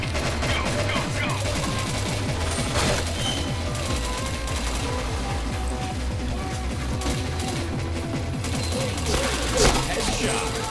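Rapid, dense bursts of automatic gunfire from a shooting video game rattle almost continuously, loud and close, with overlapping shots and game effects throughout.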